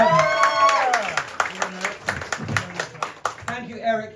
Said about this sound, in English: Please get that applause going for Eric McElroy